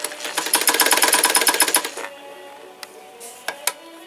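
A Dressmaker Super De Luxe Zig Zag sewing machine stitches in a fast, even, clattering run for about two seconds, then stops, leaving a few scattered mechanical clicks.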